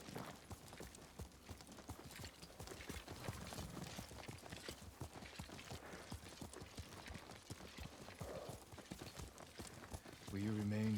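Hooves of a horse clip-clop at a steady walking pace in a samurai-era video game, with a quiet, even rhythm running throughout and a low rumble rising at the end.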